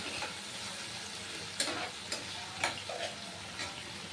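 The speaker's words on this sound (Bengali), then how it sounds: "সয়া সস দিয়ে একটু ভালোভাবে নেড়ে চেড়ে দেব" Chilli chicken with soy sauce being stirred in a pan, a steady low sizzle under a few sharp spatula scrapes and clicks spaced about half a second apart.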